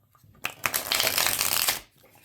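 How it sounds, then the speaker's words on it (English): A quick riffle shuffle of a tarot card deck: a short burst of rapid flapping clicks that builds, holds for about a second, then stops. "let's just do a quick little shuffle"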